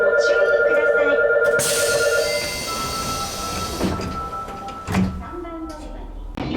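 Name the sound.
train sliding doors closing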